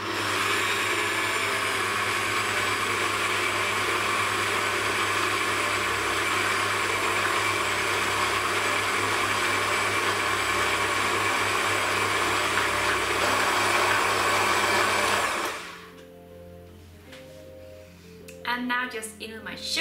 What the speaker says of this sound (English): now I'm just going to add in my butter while my machine is stirring.